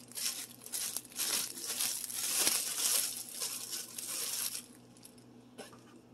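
Two slices of bread are torn into pieces over a mug, producing soft, continuous crackly ripping for several seconds that fades quieter near the end.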